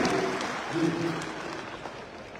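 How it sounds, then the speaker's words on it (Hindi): An indoor audience at a wellness company gathering in Patna, Bihar claps in a dense, steady wash that slowly fades, with voices talking briefly over it. "ताली बजा दो यार"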